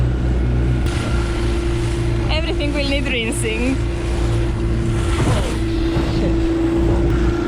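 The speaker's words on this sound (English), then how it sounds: "And this is the dinghy trip back to the boat." A small dinghy outboard motor drones steadily close by on a trip back to a sailboat in the Bahamas, with water splashing and wind noise while a person speaks briefly over it.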